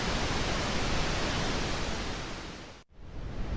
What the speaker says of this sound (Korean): 핑크노이즈